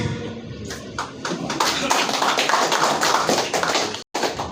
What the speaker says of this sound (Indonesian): Tepuk tangannya kecil sekali